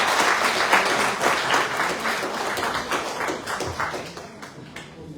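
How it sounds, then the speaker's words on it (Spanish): A seminar audience claps for a professor at the close of his talk, a dense, steady wash of many hands at close range that thins and fades toward the end. "Un aplauso al profesor."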